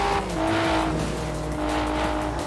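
A chasing car's engine in the racing game Forza Horizon 4, a loud continuous drone with rising and falling pitch, engine notes layered with what sounds like tire squeal, steady and close throughout without speech.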